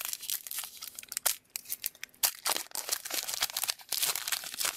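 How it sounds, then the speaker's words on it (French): A Pokémon card booster pack is torn open up close, with continuous loud ripping and crinkling of the foil wrapper in bursts over several seconds, no voices. "Donc on va ouvrir le booster de Florizard."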